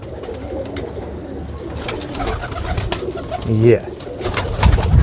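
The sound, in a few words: Kamagar Teddy pigeons cooing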